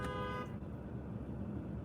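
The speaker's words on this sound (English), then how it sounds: "I think his car just honked at himself" A single short car horn toot sounds at the very start, then cuts off, leaving a low rumble of engine and road noise.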